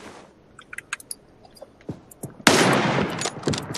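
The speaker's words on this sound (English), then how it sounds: "They're shooting at me." Gunfire in the video game PUBG, with scattered light clicks and then a sudden loud burst of rapid shooting that carries on to the end, with no talk.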